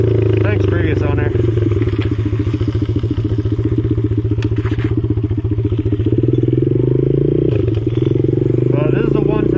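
Modded 110cc pit bike engine with a cam revving close by, a steady rapid motorcycle putter with rising and falling throttle, under continuous talking.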